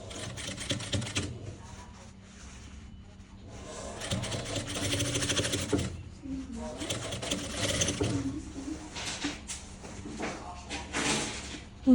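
A sewing machine stitching a vest neck seam, running in several bursts of rapid mechanical chatter separated by short pauses, with a voice talking at times.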